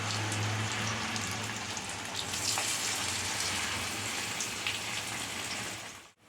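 Corn fritters (makka garelu) frying in oil in a pan over a low stove flame, a steady close crackling sizzle like light rain that runs on continuously, with no talking.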